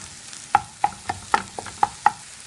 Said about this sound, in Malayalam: ഇനി നന്നായി ചിക്കിയെടുത്ത് മക്രോണിയുമായി മിക്സ് ചെയ്യണം.